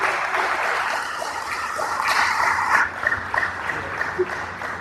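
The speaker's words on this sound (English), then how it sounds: "Let's give them a round of applause." Indoor audience applause for the cooks who prepared the food, a steady dense wash of clapping that holds for a few seconds and then thins into scattered claps near the end.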